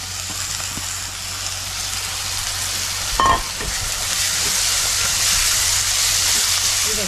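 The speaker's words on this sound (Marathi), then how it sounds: "आता आपल्याला ही चणा डाळ टाकायची आहे, भिजवलेली ही चणा डाळ टाकायची" Soaked chana dal goes into a hot pan with turmeric for a cabbage dish. A sudden splash-sizzle breaks out midway, then a louder steady frying hiss follows as it is stirred.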